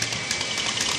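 A bicycle rigged to imitate a motorcycle engine makes a steady, buzzing, rapid rattle, loud and close, with no pauses over the short stretch.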